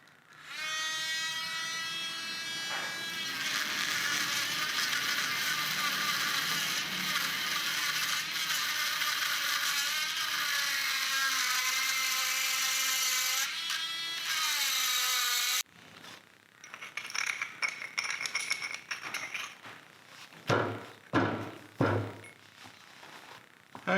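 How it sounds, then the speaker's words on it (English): A Dremel rotary tool smoothing a piece, a loud close high-pitched whine that shifts in pitch as it loads and eases for about fifteen seconds, then stops, followed by handling clatter and knocks. "Now it's over to the Dremel just to smooth things out."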